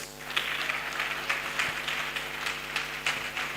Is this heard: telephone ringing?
no